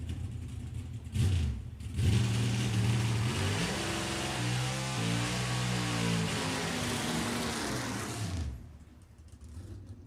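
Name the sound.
NHRA pro stock drag racing Camaro engine running during testing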